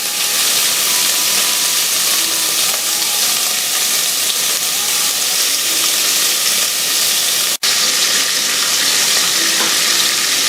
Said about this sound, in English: I have that bacon nice and browned off.